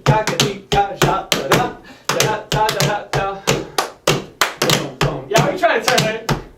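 Tap shoes striking a studio floor in an across-the-floor tap dance progression, crisp rhythmic taps in quick clusters with short gaps, loud and close.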